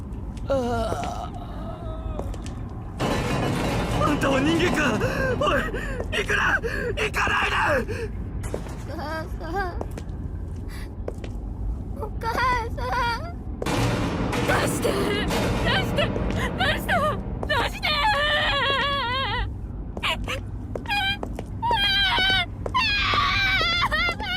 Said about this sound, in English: It's hard to believe screams like that could come from another human being.